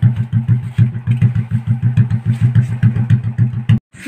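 A motorcycle engine chugs at a low idle, close and loud, with a steady rapid thumping rhythm and faint clatter, cutting out briefly near the end before resuming.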